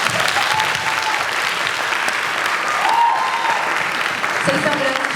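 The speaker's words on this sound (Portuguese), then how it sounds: "Salva de palmas, por favor." Audience applause fills a live dubbing-industry panel, a dense, steady wash of clapping from a crowd that carries on at full strength for several seconds, with a few cheers and voices rising through it.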